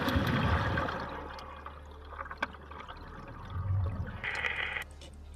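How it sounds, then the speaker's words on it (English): Divers entering the sea on a dangerous shark dive, water splashing and churning up close, with bubbly rushing liquid sounds that swell at the start and again toward the end. "They are prepared for a dangerous dive and quickly go into the water."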